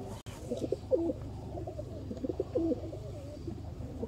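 Sialkoti shekhan pigeons cooing, a steady run of soft, rolling coos from several birds close by, continuous over a low background with no talk.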